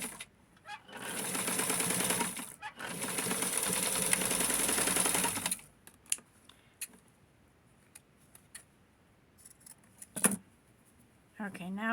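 A sewing machine stitches a shirt collar in two close, steady whirring bursts separated by a brief pause, followed by quieter handling clicks and rustles of fabric.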